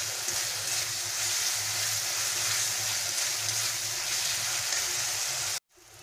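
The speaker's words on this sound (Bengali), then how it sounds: "দিয়ে এটাকে ভালো করে মিশিয়ে নেব। ভালো করে রান্না করে নেব।" Grated onion paste fries in oil for Bengali egg korma, giving a loud, steady, close sizzle that continues unbroken and then cuts off abruptly just before the end.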